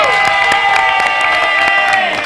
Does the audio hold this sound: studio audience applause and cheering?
yes